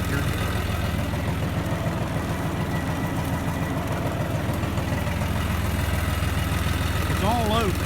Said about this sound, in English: Got a nice load of wood on the back of this tractor.